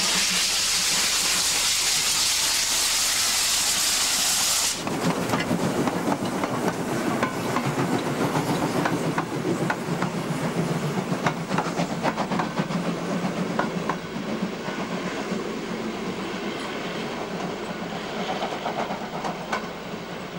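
DRB class 52 steam locomotive in Bautzen, opening with a loud continuous steam hiss that cuts off, then a steady rumbling run with rhythmic clanking and chuffing, close and sustained throughout.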